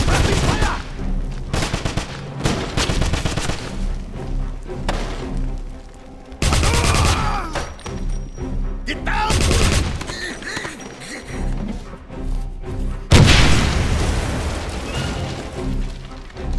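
Heavy video game gunfire from Wolfenstein in sustained bursts of automatic fire and loud blasts, with distant shouting voices mixed in between volleys.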